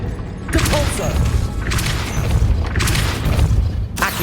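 Spell impacts from the Depulso force-push charm in the Hogwarts Legacy video game: four loud, heavy booming blasts spaced about a second apart, each a crashing thud with a short whooshing tail, repeating in a steady rhythm.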